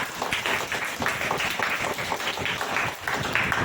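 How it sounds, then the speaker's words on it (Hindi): A church congregation at a Hindi Christian worship service claps together in a dense, continuous burst of applause, loud and sustained throughout. "आत्मा में भरकर ताली बजाओ यीशु के नाम से"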